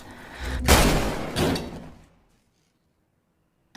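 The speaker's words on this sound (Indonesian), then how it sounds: "Dong-hun menahan pintu itu sekuat mungkin supaya Ji-woo tetap di dalam rumah" A house door is held shut and then slammed, giving a loud, heavy thud with a second impact straight after. A brief rattling decay follows, then near silence.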